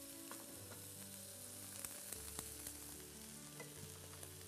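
Onion fries quietly in butter in a pan, giving a soft, steady sizzle with a few faint stirring clicks.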